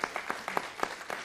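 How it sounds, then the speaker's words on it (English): A small scattering of separate handclaps at a city council meeting, a few distinct claps spaced irregularly, fairly quiet and close. "give them a nice round of applause"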